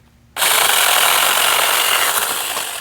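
A cordless 6-inch mini electric chainsaw, 21-volt lithium, starts abruptly and buzzes loud and close as it cuts through a branch about 1.5 inches thick, holding a steady whine throughout.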